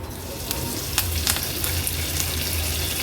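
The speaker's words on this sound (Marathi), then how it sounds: "थोडस हिंग घालते मी तेलावर अर्धा चमचा राई ऍड करूया अर्धा चमचा जिरं कढीपत्त्याची पानं" Asafoetida, mustard seeds, cumin and curry leaves sizzle in hot oil, making a brief, continuous crackling hiss with a few small pops close up.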